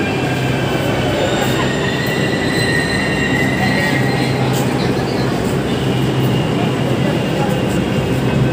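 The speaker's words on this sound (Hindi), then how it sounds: "मेट्रो आने वाली है, अभी आई हुई है।" A Delhi metro train pulls into the station with a steady loud rumble and squealing wheels, high metallic tones rising and fading over a constant broadband roar, with faint talk beneath.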